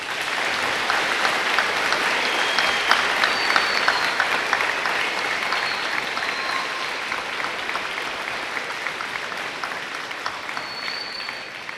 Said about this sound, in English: Let's give our veterans one more round of applause.